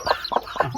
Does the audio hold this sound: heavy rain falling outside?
no